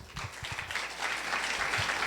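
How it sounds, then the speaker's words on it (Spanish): Applause from an audience at a medical science conference in honour of Dr. Orlando Vargas, a steady, fairly dense clapping wash lasting about two seconds with no voices over it. "damos fuertes aplausos para el doctor Orlando Vargas"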